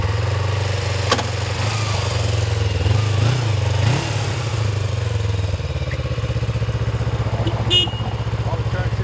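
A 1999 Kawasaki Ninja EX250F 250cc motorcycle engine runs nearby at a steady, loud idle, with a slight rise in revs midway and a brief click near the end, and no talking.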